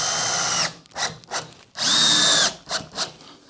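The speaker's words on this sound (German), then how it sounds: "Schrauben das hier fest." A power drill drives screws into wood in short, repeated bursts, its motor whining up and stopping several times, with one longer, steady run in the middle; close and loud, no talk.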